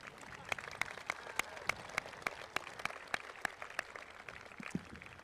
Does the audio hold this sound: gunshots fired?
no